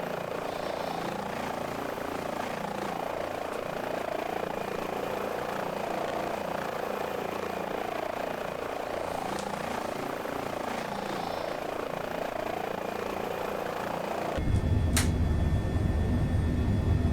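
An H145 helicopter in a flight simulator game thrums steadily with rotor and engine noise for most of the stretch, then shifts abruptly to a harsher, louder cabin tone near the end.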